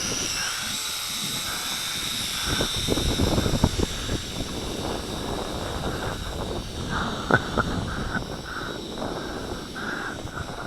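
Syma X5C quadcopter drone hovering outdoors in the wind, its rotors making a continuous whirring hum mixed with gusty wind buffeting on the microphone.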